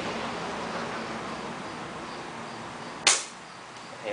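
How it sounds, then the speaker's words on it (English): A single sharp rifle shot cracks once over a steady hiss of outdoor background noise while a scope is being zeroed, its short decay dying away quickly. "I'll do 3 more shots, make sure I'm shooting consistent."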